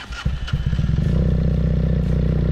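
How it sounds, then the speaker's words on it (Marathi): A Benelli 502 motorcycle fitted with a Leo Vince exhaust starts with a brief cranking clatter, then catches into a loud, steady, throbbing idle up close, with no talking. "ह्या एक्झॉस्टचा मी तुम्हाला एक हे दाखवणार आहे, आवाज कसा येतो तो. तर आपण सर स्टार्ट करा."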